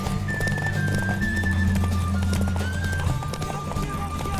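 In The Witcher 3, rhythmic horse hoofbeats clop steadily over a sustained musical drone, with a thin high whistling tone drifting above.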